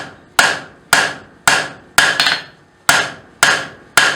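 Sharp, ringing hammer blows on steel being forged on the horn of an anvil while shaping a steel rose, about eight strikes in a steady rhythm with one quick double hit, loud and close with no talking.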